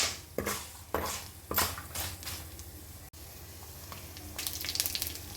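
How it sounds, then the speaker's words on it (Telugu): Amla and green chillies fry in oil in a pan, a steady sizzle punctuated by repeated metallic scrapes and clinks of a spoon against the pan, close and without talk. "అన్నీ మంచి రంగు వచ్చేలా వేపుకుంటున్నాను"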